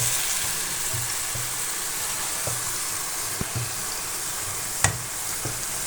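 Bottle gourd pieces fry in oil, giving a constant close sizzling hiss with soft rhythmic stirring bumps and a couple of sharper utensil knocks.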